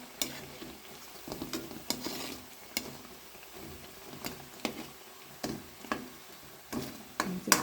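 Jackfruit seed cutlets frying in oil, with a steady close sizzle and repeated sharp metallic taps and scrapes of a utensil against the pan as they are turned.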